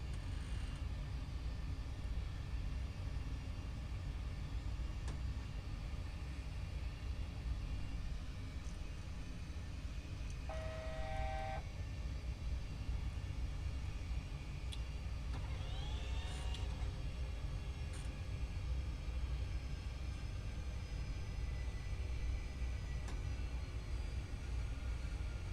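Airliner engines in a flight simulator on a night departure from Kai Tak, a constant low droning rumble throughout with faint occasional beeps and tones layered over it.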